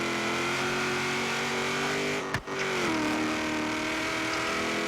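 BMW engine in Forza Horizon 3 holding a steady droning tone, briefly dropping at a gear change with a short crackle before pulling on again, loud and uninterrupted with no talk.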